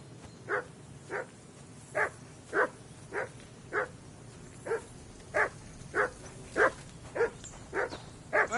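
A dog in Kingdom Come Deliverance 2 barks about a dozen times in a steady rhythm at a riverbank camp, each bark short and sharp and moderately near, over a quiet background.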